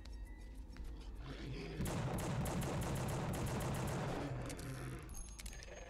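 Machine gun fire in the horror action game The Suffering, a loud continuous rapid burst roaring for several seconds before tapering back to quieter game sounds.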